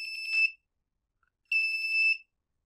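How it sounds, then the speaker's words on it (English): A piezo buzzer on an LDR light-sensor circuit, triggered by a large shadow, sounds two shrill electronic beeps: a short one, a pause of about a second, then a longer one, close and clear with no other sound. "a big shadow trips the LEDs and the buzzer"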